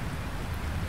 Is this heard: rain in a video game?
yes